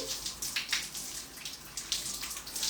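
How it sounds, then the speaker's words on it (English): Water rinsing honey mud off skin, a soft continuous splashing and trickling with uneven gushes as hands move through the flow, close and fairly quiet. "let's rinse. Honey mud off the skin."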